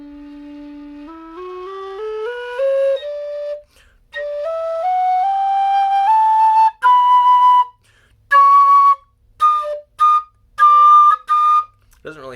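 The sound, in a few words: low whistle being played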